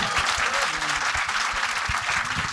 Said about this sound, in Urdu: اب تالیاں بجائیں گے